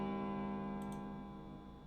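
An antique clock set into a wall in the 9 Hours 9 Persons 9 Doors game gives a steady, sustained tone with a faint ticking, fairly quiet and alone, slowly fading over two seconds.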